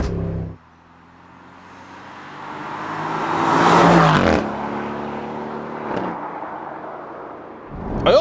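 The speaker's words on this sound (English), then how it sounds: "I also like the fact that I apparently do seem to get different pops and cracks when lifting off." Aston Martin V8 Vantage F1 Edition engine rising to a loud, close rev and then lifting off, with brief crackles and pops on the overrun before a quieter cruise and a final burst.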